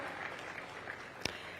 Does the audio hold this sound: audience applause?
yes